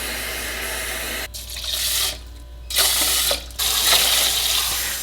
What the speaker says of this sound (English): I'm going to add in about 3 rice cups of water.